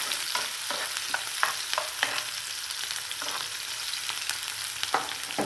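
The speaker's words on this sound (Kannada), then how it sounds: "ಸ್ವಲ್ಪ ಈರುಳ್ಳಿ ಕೆಂಪದಾಗಲಿ." Onion frying in a pan for a fenugreek-leaf rice dish, a steady close sizzle with repeated scraping strokes of a stirring spoon, no talk.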